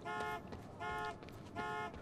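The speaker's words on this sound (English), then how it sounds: "Which one has the alarm?" Car alarm in the video game Quantum Break, three repeated pulsing horn bursts at a regular rhythm, fairly faint and distant over a low background rumble.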